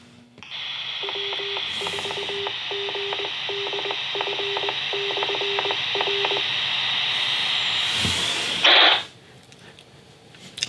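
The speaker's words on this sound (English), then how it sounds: "what we should get is we should get a response from our repeater" A Yaesu FT-4XR handheld radio keys up to a repeater and gets its response tones: a sustained carrier with a rapid run of short repeating beeps, then a brief burst of noise and a cutoff, loud and close with no voices.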